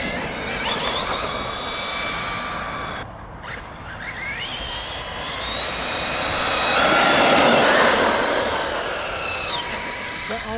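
PD Racing TK10 4S RC monster truck running at half throttle, its electric motor giving a continuous rising and falling whine that swells louder near the end, with voices talking over it.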